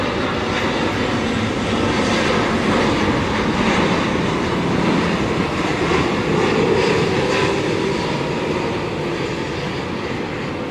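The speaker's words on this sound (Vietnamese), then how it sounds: "Chiếc máy bay đang bước vào hạ cánh đường băng 25 phải" A Vietnam Airlines Boeing 787 Dreamliner lands on runway 25R at Tan Son Nhat airport. A loud, continuous jet engine roar holds steady throughout, with broadband rushing noise and no voices.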